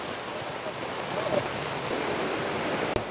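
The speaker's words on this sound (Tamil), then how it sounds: "இங்கே வந்து இந்த கலிங்கிதை வந்து தாண்டி போயிட்டு இருக்குது. எவ்வளோ ஸ்பீடாக போகுதுன்னு பாருங்க" Floodwater rushes over a reservoir spillway in Kilinochchi during a cyclone flood, a steady loud broadband roar with no pause, close by, ending in a brief thump.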